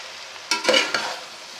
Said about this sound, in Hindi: अब हम इसमें मैक्रोनी शामिल करते हैं, बिस्मिल्लाहिर्रहमानिर्रहीम, और इसको बहुत ही अच्छे तरीके से हम मिक्स कर लेते हैं